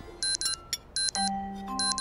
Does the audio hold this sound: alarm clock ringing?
yes